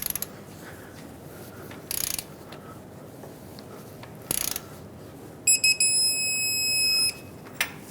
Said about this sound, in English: now let's torque it to 44 foot-pounds